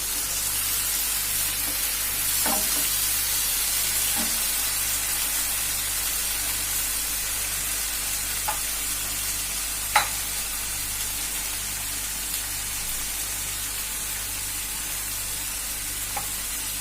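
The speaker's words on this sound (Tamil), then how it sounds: "இந்த தக்காளியை இதோட நாம சேர்த்து கலந்துக்கலாம்." Tomatoes stirred into a sizzling frying pan mixture for an egg dish, with a steady frying hiss throughout and a few faint scrapes and clinks of the spoon against the pan.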